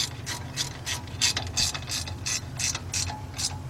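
Ratchet wrench clicking in a steady series of short bursts while tightening a bolt on the rear wheel cylinder of a 1993 Ford F700 with a 7.0 engine and Lucas Girling brakes; close, crisp and alone, with a low hum underneath.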